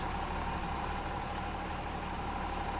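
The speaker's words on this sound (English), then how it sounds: "Just the sound of the tractor." A tractor engine in the Heavy Rain video game, a steady continuous rumble running unbroken throughout.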